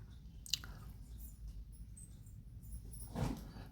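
Faint, soft squishing of marinade being hand-mixed for vanjaram fish fry, a short quiet wet squelch with a brief click near the start and a slightly louder squish near the end.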